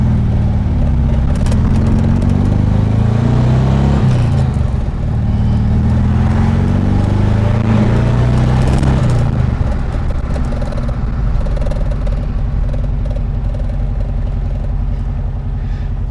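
A supercharged 1600cc VW Karmann Ghia air-cooled engine runs steady and loud, its rough mid-range drone rising and falling with throttle as the car drives, with no talk over it.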